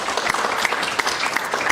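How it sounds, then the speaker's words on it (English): Big round of applause at the OSA conference meeting at the University of Toronto for an outgoing board member and president, dense steady clapping from a crowd filling the short stretch with sharp individual claps poking through. "I would like to give him a big applause and thank him too."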